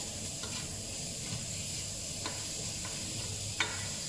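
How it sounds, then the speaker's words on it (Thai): Minced pork sizzles and hisses steadily as it is stir-fried in a pan, with a few soft utensil scrapes and a small clack near the end. "ผัดหมูบดให้มันสุกๆ"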